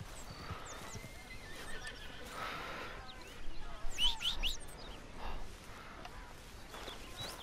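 Horse hooves clop along with a neigh in the video game Red Dead Redemption 2, while birds chirp faintly in the background; the sounds are quiet and somewhat distant.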